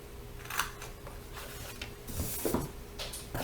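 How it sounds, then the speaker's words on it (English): Scissors snip away the small corner boxes of scored cardstock for a chocolate gift box, giving a few quiet, close cuts and crisp paper rustles against faint room hum. "I'm going to cut that out, 1 on each side."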